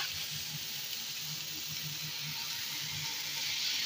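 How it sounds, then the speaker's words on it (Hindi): Bitter gourd frying dry on a hot griddle makes a soft, steady hiss and gentle sizzle that continues evenly and quietly, with a faint low hum beneath. "अब मैं इसको तवे पे डालूँगी और इसको फ्राई करेंगे सूखा सूखा सा।"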